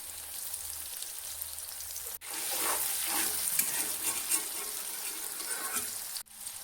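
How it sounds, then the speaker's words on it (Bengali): Green chillies, chopped onion and vegetables sizzle and fry in a pan while being stirred, a steady close crackle with scraping strokes, briefly cut off near the start and end, no voices. "দিয়ে এখন একটু নাড়ায় নিব এগুলা"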